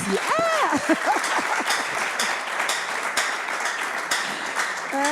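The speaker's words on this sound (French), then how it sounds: "Et aujourd'hui, on peut acclamer pour ça." An audience applauding and cheering, dense clapping running throughout with rising, whooping voices on top.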